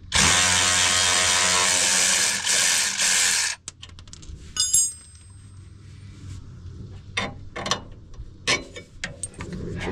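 A battery-powered impact tool or ratchet working on a RZR side-by-side's trailing arm, a loud continuous buzzing run for several seconds that cuts off abruptly, followed by scattered metallic clicks and clanks.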